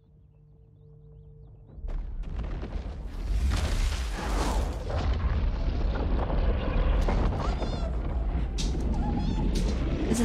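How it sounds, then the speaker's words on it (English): Explosion setting off an avalanche in an Apex Legends cinematic: a quiet low hum gives way to a loud boom near two seconds, then a heavier deep roar swells around three seconds and rumbles on steadily to the end. "an explosion that made an avalanche."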